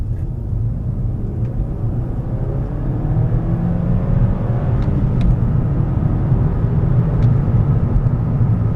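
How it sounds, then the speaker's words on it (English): A 2006 Seat Leon FR 2.0 TFSI accelerating hard in second gear from about 30, a steady loud engine roar and road rumble heard from inside the cabin, holding and slowly rising over several seconds with no talking. "Foot hard down, second gear."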